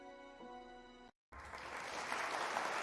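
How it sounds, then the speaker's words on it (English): A brief sustained musical tone cuts off, and after a short silence an audience at a talk show breaks into broad, even applause that holds at a moderate, fairly distant level. "Thank you. Applause."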